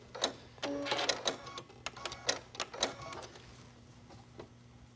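Up close, a sewing machine stitches back and forth on a knit strap in short, quiet bursts of rapid clicking, then trails off into near silence.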